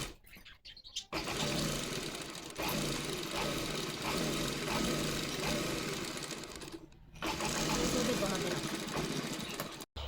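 Sewing machine running steadily while stitching panels cut from an old saree into a dress, a loud continuous motor whir with a short pause near the middle and brief stops at the start and end.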